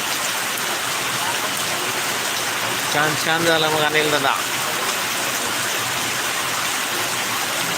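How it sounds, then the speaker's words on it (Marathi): Continuous rain pours down in a steady broadband hiss while someone speaks briefly in the middle, his voice riding on top of the downpour. "हा पाऊस कसा पडत आहे"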